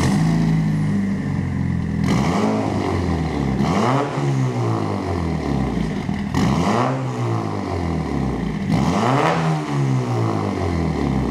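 A Mitsubishi Evo 8 engine revs through an aftermarket exhaust, rising and falling in repeated loud sweeps, with the tone climbing and dropping several times close to the recorder.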